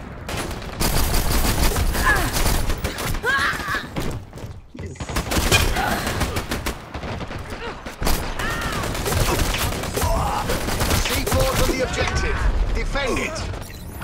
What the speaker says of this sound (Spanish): Ya acaban de fusilar a un weón.